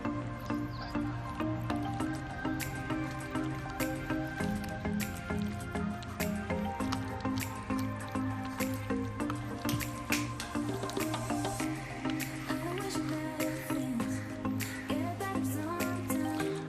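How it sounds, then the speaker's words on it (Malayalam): Raw chicken is mixed by hand with egg and salt for homemade chicken 65, making a continuous wet, squishy, dripping sound, close and steady for the whole stretch. "ഒപ്പം കുറച്ച് ഉപ്പ്. നന്നായി മിക്സ് ചെയ്യണം."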